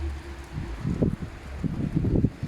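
Strong wind gusts buffet the microphone outdoors in the mountains of Loo near Sochi, on a cold, rainy +6°C day, with low rumbling bursts and rustling.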